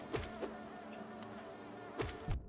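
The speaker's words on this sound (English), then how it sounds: "I guess those bees get annoying because of the numbers." Swarming bees from the video game Hollow Knight buzz steadily in a continuous layered drone, with a few soft thuds and clicks of game effects over the top, moderately loud with no talk.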